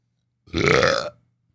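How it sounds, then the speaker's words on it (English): A single loud, drawn-out burp from a man, lasting about half a second with a rough, throaty rasp, ending abruptly into silence. "Hold on, I got a burp."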